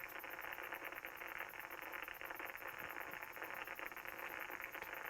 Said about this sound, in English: put crickets in the background. It just seems like kind of a vibe. And then to add to that noise, I added some radio static